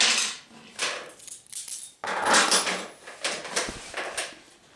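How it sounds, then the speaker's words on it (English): Metal carriage bolts with washers dropped through holes in a wooden plant caddy stand, giving close, faint clinks and rattles with soft knocks and handling noise. "I'm going to drop the carriage bolts through."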